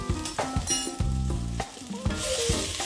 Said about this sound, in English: I'm gonna cook out the flour in the onion.